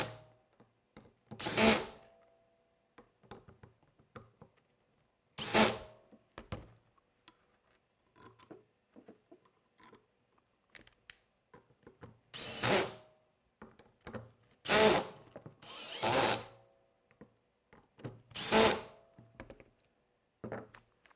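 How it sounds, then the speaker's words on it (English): A power drill whirs in several short, loud bursts with quiet pauses between, driving screws into a vehicle chassis during assembly, with faint clicks and knocks in between. "I'll go straight to the power tool here."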